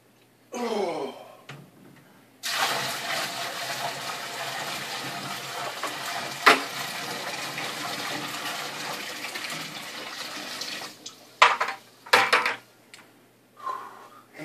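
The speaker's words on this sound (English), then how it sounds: "For ease today, we will be using 5 gallons of sink water." Water from a sink tap pours steadily into a bucket, filling it for aquarium use: a loud, continuous rushing splash lasting about ten seconds, with brief handling knocks and clunks before and after.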